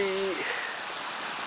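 A small river on a morning walk in Hokkaido, a soft continuous rushing flow heard close by, with a brief voice-like tone at the very start.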